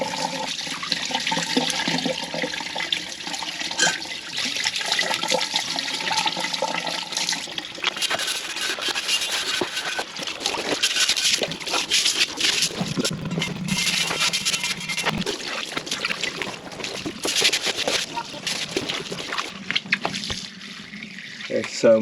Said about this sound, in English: I'm gonna dump all the water and I'm gonna hose it down